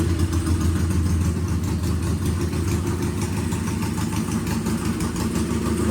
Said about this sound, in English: It's kind of noisy because we're running without mufflers.